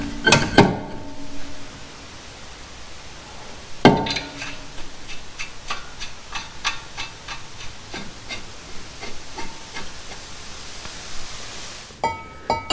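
A new brake rotor being fitted onto the front hub of a 2013-2019 Ford Escape, giving a few sharp metallic knocks and clanks followed by a run of lighter taps and rattles, close up and with no talking.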